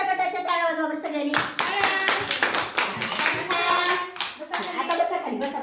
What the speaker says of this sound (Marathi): आरुषच्या गटाच्या टाळ्या वाजवा बरं सगळ्यांनी